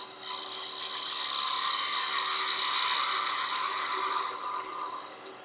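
A wooden Christmas tree decoration being turned to a point on a lathe, with a steady close rasping, scraping cut that swells and holds for several seconds before easing off.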